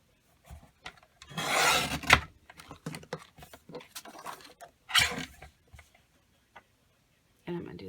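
Planner paper is cut in half, giving two main bursts of rasping, scraping cuts close by. Scattered light clicks and taps surround them.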